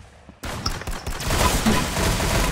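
Laser rifle fire in the Roblox game Arsenal, a rapid stream of shots that starts abruptly and keeps going as a dense, steady crackling burst, loud and close, with no speech over it.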